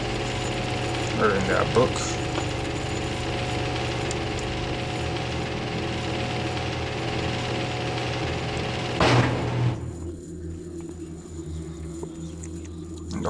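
An elevator descending in the video game Thief: The Dark Project, a steady mechanical grinding hum with a ratcheting clank near the end before it quiets, while someone talks briefly over it.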